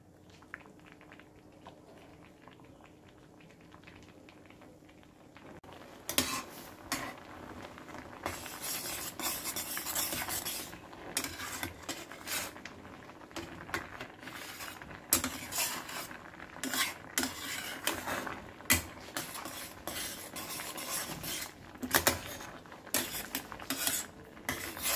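Spoon stirring cheese curry in a cooking pot on a gas stove, repeated scraping and clinking strokes that start after a quiet moment and continue steadily up close.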